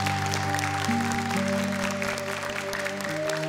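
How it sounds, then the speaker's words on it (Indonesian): An Indonesian televised Quran recitation competition audience applauds the seven contestants, a steady dense clapping that runs the whole time over a sustained musical drone. "Boleh tepuk tangan untuk ke-7 peserta kita."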